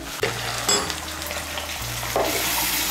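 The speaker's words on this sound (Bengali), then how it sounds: "হলুদের গুঁড়ো আর নুনটাকে মিশিয়ে নিয়ে মশলাটাকে ভালো করে কষিয়ে নেব।" A spice paste with turmeric powder, salt and a splash of water fries and is stirred in a pan for a potol dalna, giving a steady close sizzle broken by a few louder scraping stirs, with no talking.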